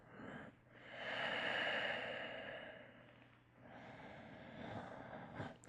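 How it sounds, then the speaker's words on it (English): Slow, deep breathing during yoga relaxation in Shavasana, with audible breathy inhales and exhales rising and falling, close and soft, with no speech. "Listening to the sound of your breath in your Shavasana."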